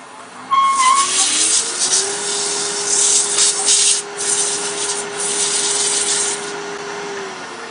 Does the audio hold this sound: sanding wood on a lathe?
yes